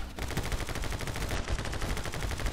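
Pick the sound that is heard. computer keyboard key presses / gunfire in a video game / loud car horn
gunfire in a video game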